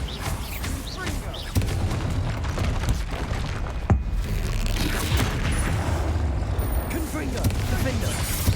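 Confringo and Bombarda spells explode in Hogwarts Legacy, a near-constant roar of blasts and booms with sharp hits scattered through it, while a voice calls out over the fighting.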